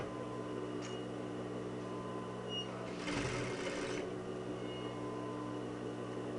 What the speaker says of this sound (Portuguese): vamos passar uma costura em cima dele